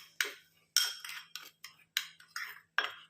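Spoon stirring face pack powder with milk in a bowl, a run of sharp clinks and scrapes against the bowl, close and fairly crisp, coming in quick irregular strokes with no voices.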